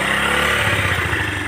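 A motorcycle carrying two riders bumps along a rain-damaged gravel road, its engine a steady, close mid-range drone with rougher pulsing as it labors over the rutted surface.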